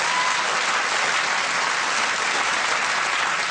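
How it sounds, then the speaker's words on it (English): Loud, dense studio audience applause on a television chat show, a continuous wash of many hands clapping at even strength throughout, with no voices standing out. "They're applauding me that I've made it?"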